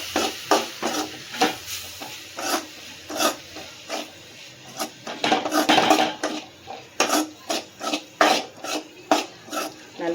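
A spoon scrapes and clatters against a pan as prawn thokku is stirred and sautéed with chilli powder, giving a steady run of close, rhythmic scraping strokes over a faint sizzle, with no talking.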